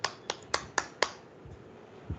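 A small audience claps at a student camp closing ceremony: five sharp, evenly spaced claps in quick succession, then a faint trailing clap, fairly close.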